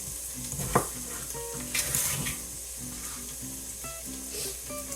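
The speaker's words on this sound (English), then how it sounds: "Now that my eyes have recovered, the cooking onions smell good." Onions sizzle and fry steadily in a pan, a constant crackling hiss with occasional stirring clatter and faint kitchen clinks, close and moderately loud, with no talking.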